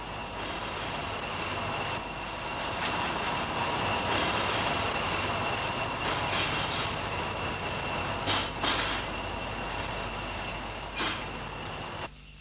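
The Royal Scot pulls out of Crewe behind diesel locomotive D316, a loud, sustained engine roar with rolling wagon rumble that holds steady for about twelve seconds and fades slightly at the end.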